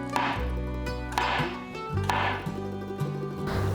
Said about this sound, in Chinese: 把羊菇切片